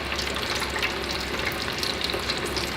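Chicken pieces frying in a deep fryer for keto, low-carb orange chicken, giving a steady, dense bubbling sizzle that runs unbroken and fairly loud throughout, with no talking.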